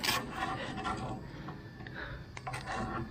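Wiping and scraping excess silicone sealant off the seams of a large 8-foot glass aquarium tank, a close, steady rubbing sound with a few sharper scratchy strokes, with no voices.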